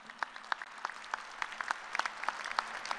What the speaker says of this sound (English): And I think that does deserve an applause.